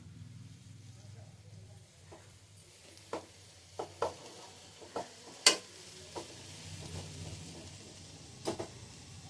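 Coriander leaves stir-fried in a pan give a faint background sizzle with a series of spatula taps and scrapes against the pan, a few sharper knocks, quiet and close, with soft talk underneath.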